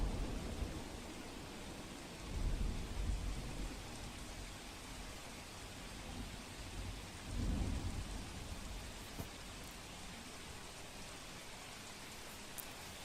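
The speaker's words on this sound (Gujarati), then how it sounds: "તો અમદાવાદના તમામ વિસ્તારોમાં ધોધમાર વરસાદ પડી રહ્યો છે." Heavy rain falls steadily across Ahmedabad, a dense, even hiss of downpour with two deep rumbles of thunder swelling up in the middle, all at a moderate, distant level and with no voices.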